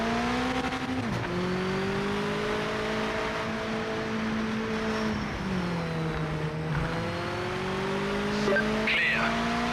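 Mazda MX-5 race car in the Project Motor Racing video game, engine droning and rising and falling through gear changes, with tire squeal and skids, continuous and close, with faint talk at times.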